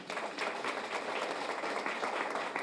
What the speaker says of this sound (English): I would like us to please give him more applause,